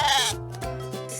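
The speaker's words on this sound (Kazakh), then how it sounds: "Қой." A cartoon sheep gives a close, clear bleat, a wavering nasal cry that breaks into a few pulsing segments over about a second, with no talk over it.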